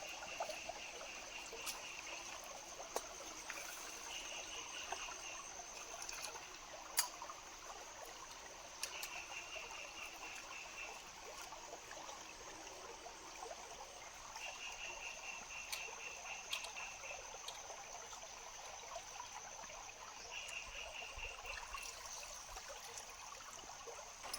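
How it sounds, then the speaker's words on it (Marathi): Basmati rice is washed in water, with soft trickling and swishing heard over a steady background of high ticking insects and periodic chirps in an outdoor forest setting. "आपण घेतल्यात बासमती तांदूळ आता याला व्यवस्थित धुवून घेऊया"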